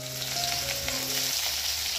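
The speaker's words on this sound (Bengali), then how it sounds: "ফোড়ন দিয়ে দিলাম" Whole tempering spices sizzle in hot oil with a steady, close frying hiss and a faint background tone that cuts off partway through.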